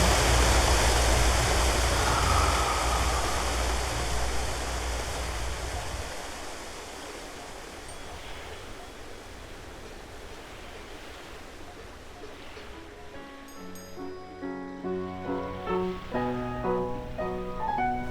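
Jacuzzi water bubbles and churns in a loud, steady hiss that fades down over several seconds, then gives way to soft musical tones.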